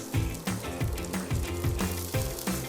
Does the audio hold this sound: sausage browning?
yes